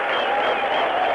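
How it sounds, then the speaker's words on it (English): A cricket stadium crowd applauds a batting shot by Javed Miandad, a broad sustained wash of clapping from many spectators that holds evenly throughout, with no commentary spoken over it. "Standing ovation there for Javed Miandad."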